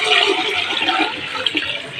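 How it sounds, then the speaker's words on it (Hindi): A rushing gush of about 2 liters of water pours steadily into a cooking pot of dal gosht, loud and close, with a bubbling, splashing texture lasting a couple of seconds. "अब मैं इसमें पानी शामिल करूँगी।"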